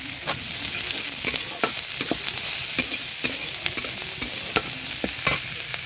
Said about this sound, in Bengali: একটু গোটা জিরে দিয়ে দিলাম।